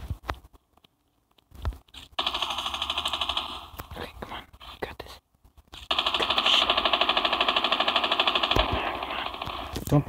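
Call of Duty Mobile battle royale weapons fire in long, rapid automatic bursts, loud and close, with a few scattered shots and gaps between them and people talking over the gunfire.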